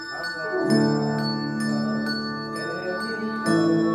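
A handbell choir rings out in a contemporary worship piece, sustained bright bell tones struck in a steady pattern with fresh strikes roughly every half second, ringing and overlapping, loud and close with no talking.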